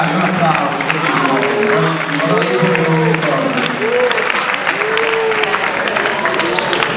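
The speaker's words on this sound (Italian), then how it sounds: "Oh, guarda, un applauso." An audience claps steadily at an award ceremony for a youth Spring Cup tournament, a dense even applause held for several seconds, with cheering voices rising above it.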